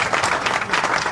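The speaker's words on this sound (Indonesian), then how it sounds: "Berikan dulu tepuk tangan yang terbaik untuk Tuhan Yesus" A congregation applauds during an online church prayer service, a brief burst of dense, steady clapping from many hands at moderate loudness.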